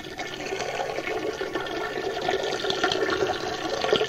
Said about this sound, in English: Coming out and hitting the water in the toilet.